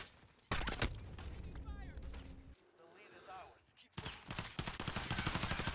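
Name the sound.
gunfire in Modern Warfare video game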